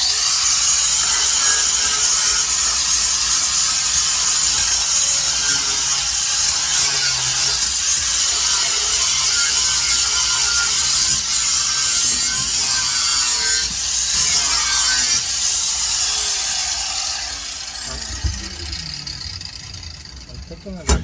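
Sandpaper rubs steadily against the wheel well of a 2000 Ford New Edge project car, a continuous loud scratchy hiss that carries on for most of the stretch before easing off near the end, with speech audible at times.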